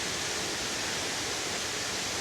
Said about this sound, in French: cette cascade, c'est la cascade la plus haute